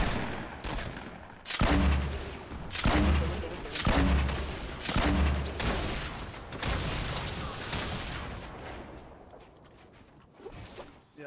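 Gunfire in Fortnite Battle Royale, a run of heavy booming shots and bursts in quick succession, loud at first and then trailing off, with no voices.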